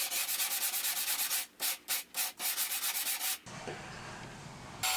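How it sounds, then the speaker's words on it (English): A sanding block rubs along the edges of a wooden lap desk panel in fast, steady rasping strokes, close and loud, with a few brief pauses before a quieter hiss. "The edges of the panel were smoothed with a sanding block."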